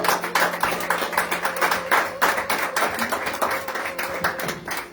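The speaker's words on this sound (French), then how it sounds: "Applaudissons très très très fort pour la part de Dieu." A church congregation at a Sunday service claps loudly and steadily in a fast, dense rhythm that continues throughout without letting up.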